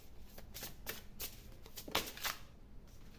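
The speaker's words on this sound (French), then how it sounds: "on va brasser, les amis." Tarot-style reading cards being shuffled by hand, a run of quick riffling bursts and flicks, close and fairly soft, with no talking.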